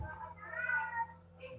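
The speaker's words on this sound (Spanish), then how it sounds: "Esa gata se animó acá encima." A female cat gives a long, rising and falling meow close by, followed by a short second cry, with faint room noise beneath.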